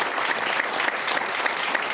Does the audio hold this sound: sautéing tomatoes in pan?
no